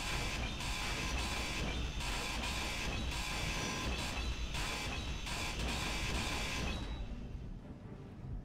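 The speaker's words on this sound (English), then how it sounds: "Actually, I'm gonna grind this all down." A hand grinder in the video game Space Engineers grinds down blocks in a hard survival session, giving a steady, loud, dense mechanical grinding roar for about seven seconds before it cuts out and fades.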